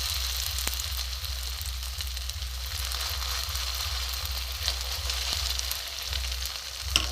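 Bread and rice-flour pitha batter frying in a small amount of oil in a pan: a steady, close, continuous sizzle and crackle throughout, with no talking.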